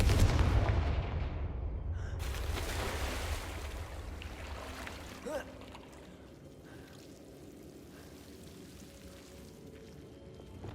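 A Confringo fire-blasting spell goes off in Hogwarts Legacy with a heavy booming burst that rolls into a long fading rumble, and a sharp crackle follows midway.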